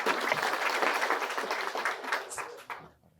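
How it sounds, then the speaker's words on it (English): An audience at an agriculture gathering claps hands in a dense, lively round that thins into a few scattered claps before fading to near silence. "And we clap hands for him again."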